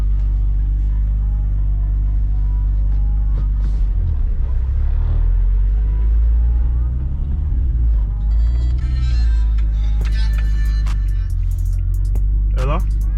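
An Infiniti G37 with a built VQ engine, lowered, drives along with a deep continuous rumble and low engine drone, loud and close, with some brief clicks and rattles near the end.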